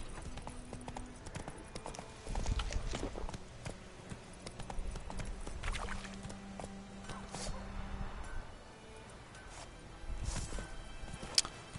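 Hooves clip-clop as a horse walks in Witcher 3. The steps are quiet and uneven over low game ambience, with faint tonal hums and no clear talk.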